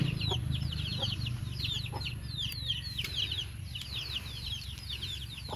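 Rapid, high-pitched chirping and peeping calls from chickens repeat throughout over a steady low background rumble, moderately close.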